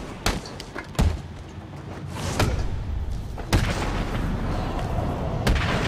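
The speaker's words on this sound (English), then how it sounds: "The only way to destroy it is explosive gel." Explosive gel blowing open a Titan container in Batman Arkham City, heard as a string of sharp booms and heavy thuds over rumbling game noise, the blasts spaced irregularly and loud.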